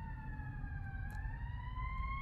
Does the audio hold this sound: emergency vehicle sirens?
yes